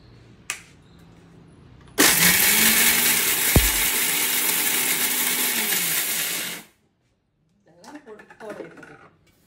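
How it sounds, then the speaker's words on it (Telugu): A mixer grinder runs in one loud, steady burst of about four and a half seconds, grinding dried mango into powder, then stops abruptly, followed by a brief rattle and some faint talk. "మిక్సీ ఎట్లా పెట్టి ఒక 2-3 తిప్పులు తిప్పితే అయిపోతుంది."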